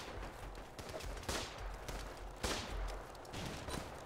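Pistol shots in a trench-warfare video game, a few separate sharp cracks spaced over several seconds amid busy battlefield noise, with no voices heard.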